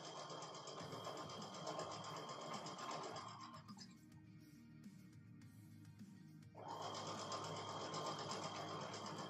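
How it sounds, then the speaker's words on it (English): A sewing machine stitches a quarter-inch quilting seam at a slow, steady pace, its rapid needle hum running close and continuous, pausing for a few seconds midway, then resuming. "I'm feeding it into the machine for that accurate 1/4 inch seam. So I go a little slow."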